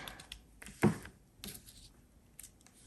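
Scissors snipping through a piece of lace, a few short crisp cuts with one sharper clip standing out, quiet and close with no talking.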